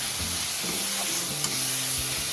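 Turmeric and chilli powder for a Bengali bhola fish curry sauté in a pan, giving a steady close hiss with faint bubbling and a single soft scrape of a spoon, no voices present.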